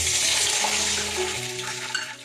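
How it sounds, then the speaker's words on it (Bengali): A cup of water poured into a hot tempering of spices and curry leaves for dhokla, a steady loud splashing pour with sizzling that tapers off near the end. "এর মধ্যে আমি এবার 1 কাপ জল দিয়ে দিলাম"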